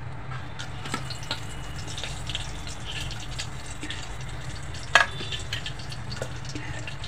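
Whole spices such as bay leaf and cardamom fry in hot oil in a pan, a soft continuous sizzle with faint scrapes and one sharp clink midway.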